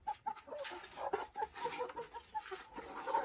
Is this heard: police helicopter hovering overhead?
no